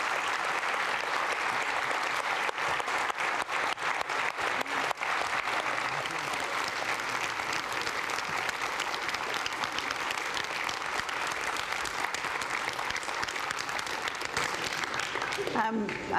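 An audience gives sustained, even applause after Kristen Christian's inspirational talk about Bank Transfer Day, clapping filling a hall throughout, with a voice heard faintly under it.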